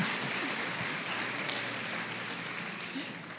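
A church congregation applauds the Lord and the actors of a performance, with a steady wash of clapping from the crowd that fades slightly toward the end.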